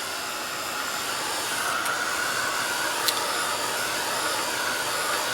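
A heat tool blows hot air onto the back of curled journal paper, a loud steady close-up whoosh and hiss that holds without a break.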